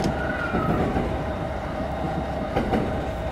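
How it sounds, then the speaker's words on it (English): A commuter train on the Yamanote Line in the Densha De Go! driving game rumbles past with steady clattering rail noise and a faint high whine, continuous and fairly loud throughout. "we got a train coming by"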